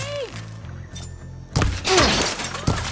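Gunfire erupts in Horizon Forbidden West during an assault on a rebel camp: sharp, loud cracking shots and impacts burst out midway after quieter clatter, with faint shouting mixed in.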